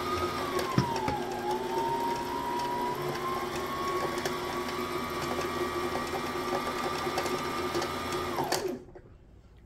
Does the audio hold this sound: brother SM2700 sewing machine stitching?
yes